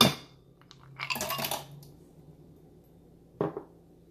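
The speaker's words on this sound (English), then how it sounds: "Ice cubes." A clatter of ice cubes tumbling into a jar, followed after a pause by a second, shorter clink.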